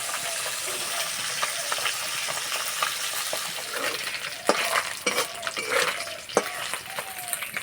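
Fish fries in hot oil in a wok with a continuous sizzle, louder spatters and scraping clatter midway, and no talking.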